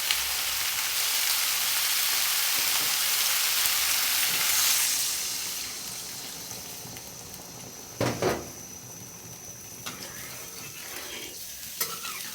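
Water poured into fish curry masala frying in a wok hisses in a loud burst of sizzling, which subsides into a softer bubbling simmer with a few clattering stirs.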